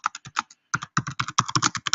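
Rapid clattering keystrokes on a computer keyboard, close and clear, in uneven bursts with a short pause midway before the typing resumes at a steady pace.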